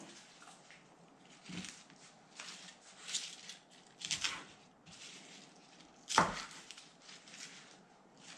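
A knife cuts through pigeon meat in a kitchen, giving several separate soft chops and squishes spaced a second or so apart, with one sharper cut near the end and no talk.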